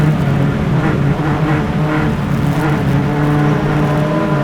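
Club Formula Continental single-seater race cars at an SCCA club race at Mid-Ohio, a loud continuous engine drone with overlapping tones as they pass on the track.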